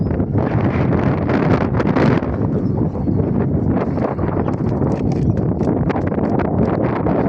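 Strong wind roars and buffets across open water without letup, a dense rumbling rush that fills the whole stretch.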